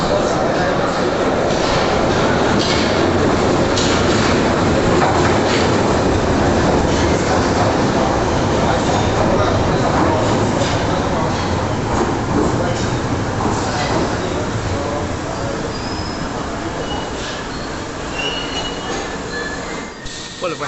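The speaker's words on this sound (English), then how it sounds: "let's go catch the train." A London Underground Piccadilly line train runs loudly throughout, with a steady roar, squealing wheels and faint clickety-clack on the rails. The noise stays dense and close for the whole stretch, with a brief voice under it.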